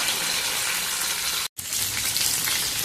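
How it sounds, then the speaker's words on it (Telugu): Eggplant pieces fry in a pan with a steady, loud, dense sizzle that runs continuously apart from a brief cut-out midway. "ఇంకా కొద్దిసేపు వేయించుకున్నాము. వంకాయలు వేగినాయంటే తొందరగా అయిపోతుంది కూర కూడా."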